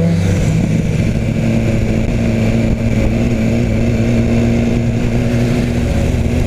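A BMW S1000 R motorcycle on a test ride, its engine roaring loud and close under hard acceleration, with a steady, continuous high-revving drone and no speech.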